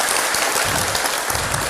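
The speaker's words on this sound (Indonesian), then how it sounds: "tepuk tangan dulu buat kakak saya" Loud, dense audience applause at a gathering for seniors, a continuous wash of many hands clapping together in a short burst.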